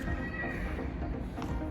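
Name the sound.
horses neighing at a farm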